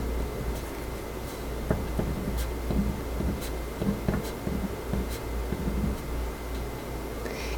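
A pen scratches across paper as answers are written out, with soft ticking strokes and taps in an irregular rhythm over a steady low hum, close and fairly quiet.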